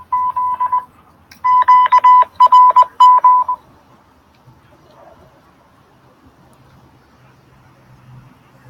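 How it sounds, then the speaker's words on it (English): A cell phone rings nearby in a room, a short burst of electronic tones followed by two more clustered ringing bursts, then stopping as faint low background noise continues. "Phone ringing."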